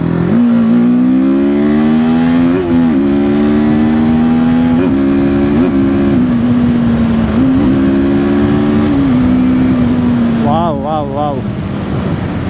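A TVS Apache RTR 310 motorcycle ridden in sports mode drones loudly up close, its engine pitch climbing and dropping through several gear changes over heavy wind rush, with a brief voice near the end.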